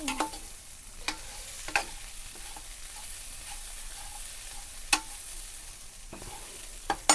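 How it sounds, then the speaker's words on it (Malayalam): Grated coconut being stirred in a frying pan, a soft continuous sizzle with scraping stirs and several sharp clinks of the spoon against the pan, close up and quiet, with no talking. "തേങ്ങ ഇട്ട് കൊടുത്ത് നല്ലോണം ഒന്ന് ഇളക്കി യോജിപ്പിച്ചെടുക്കണം"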